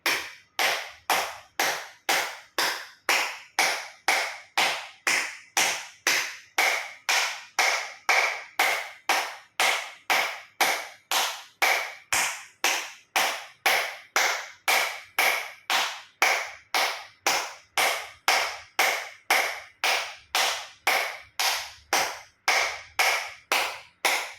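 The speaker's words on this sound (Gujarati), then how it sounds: "એક્યુપ્રેશર તાળી પૂરેપૂરા આંગળા હથેળી પૂરેપૂરું ટચ થાય રીતે 50 વખત તાળી પાડીશું" Acupressure clapping with full fingers and palms meeting flat, about fifty sharp, evenly spaced claps in a steady brisk rhythm, loud and close, with no talking.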